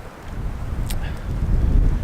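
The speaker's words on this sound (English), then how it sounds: "The wind, although it's windy and you can probably hear that, the wind's not too bad." Wind gusts across a campsite in Caprock Canyons, a rumbling buffeting on the microphone that builds in strength over the couple of seconds.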